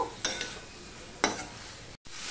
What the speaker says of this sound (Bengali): দিয়ে এগুলো সব মিশিয়ে আরেকটু কষিয়ে নেব।